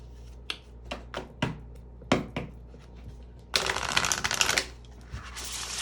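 Zodiac reading cards shuffled by hand during a tarot reading: a few separate riffles and flicks, then a longer dense burst of card shuffling, close and crisp with no talk.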